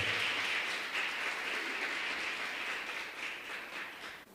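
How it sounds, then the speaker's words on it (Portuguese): A congregation applauds during a church service, a steady wash of many hands clapping at once, fairly loud and even throughout the short stretch. "Você pode aplaudir o Senhor?"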